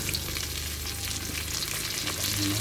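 Pork for adobo fries in a pan with a steady, close, dense sizzle that runs unbroken and swells slightly near the end, with no voices.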